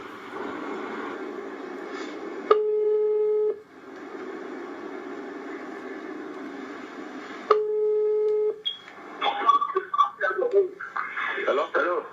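A recorded telephone call plays two long steady ring-back tones, each about a second, separated by a low line hiss, before a voice answers and talk begins near the end.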